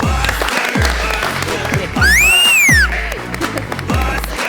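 Studio audience applause greets Pakistani cricketer and fast bowler Mohammad Sami as he walks onto a TV talk show, the clapping mixed with steady thumping music beats and a brief rising-and-falling whistle-like tone.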